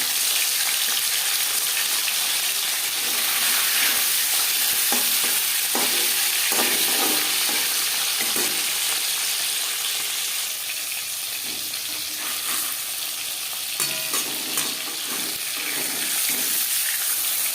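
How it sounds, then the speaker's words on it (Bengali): Bata fish fry in hot refined oil in a pan, a loud, sustained sizzle with bursts of spitting and occasional scraping and stirring clatter throughout, no talking. "মাছ ভাজবার জন্য বেশ খানিকটা রিফাইন্ড অয়েল গরম করে নিয়েছি"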